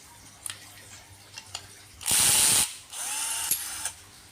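A power drill is used to tighten a bolt on the water pump of a Jupiter MX motorcycle, giving two short whirring ratcheting bursts close by after a few light clicks.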